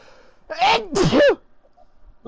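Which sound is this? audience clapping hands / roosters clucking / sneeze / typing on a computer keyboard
sneeze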